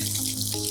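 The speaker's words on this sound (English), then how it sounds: "Open the faucet slightly." Water runs steadily from an outdoor faucet through a RainPoint Quickdial automatic water timer, opened slightly for a manual watering test, producing a continuous close hiss with no talking.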